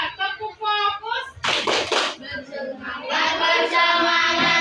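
A class does a rhythmic focus clap routine: voices chant in unison, broken by a short burst of sharp group clapping, then the chanting resumes over the room.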